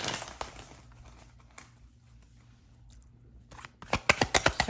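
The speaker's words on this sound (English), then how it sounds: "Let me do two more shuffles" Tarot cards shuffled by hand, a soft papery riffle that ends in a quick run of sharp, evenly spaced card snaps, close and fairly quiet.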